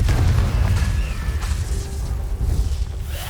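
A Confringo fire spell explodes in Hogwarts Legacy on PS5, giving a dense, rumbling blast that holds a heavy low boom throughout with faint whooshing debris layered on top.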